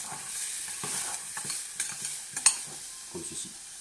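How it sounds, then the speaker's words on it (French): Vegetables for lemon mascarpone salmon are stirred in a hot pan, a steady close sizzle broken by soft scraping strokes and a few sharper utensil taps, with no talking. "On mélange un petit peu."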